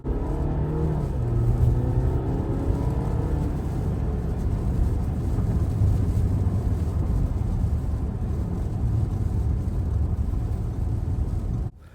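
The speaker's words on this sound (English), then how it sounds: "So let's get one last acceleration test before we wrap up this video." A 2024 Audi A6 four-cylinder with quattro all-wheel drive accelerating hard, heard from inside as a loud, steady engine and road rumble with rising tone that lasts until an abrupt cutoff at the end.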